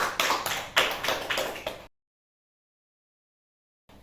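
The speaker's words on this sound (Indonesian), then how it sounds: "Ayo berikan tepuk tangan untuk Rika dulu semuanya." A classroom of students claps for a classmate named Rika after her presentation on the respiratory system, with a short, fairly close burst of uneven clapping that stops abruptly into silence.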